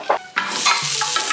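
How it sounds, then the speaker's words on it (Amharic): Onions sizzle in melted table butter in a frying pan, a close, bright crackling hiss punctuated by a couple of quick stirring scrapes, with no voices. "የገበታ ቅቤ እናረጋለን እስከሚቀልጥ እንጠብቃለን ሽንኩርት እናረጋለን"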